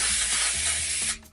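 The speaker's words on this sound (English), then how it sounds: "Maybe I'm spraying it too" Tapioca dry shampoo sprayed from an aerosol can, one loud close hiss lasting about a second before cutting off, with a faint mechanical clicking under it.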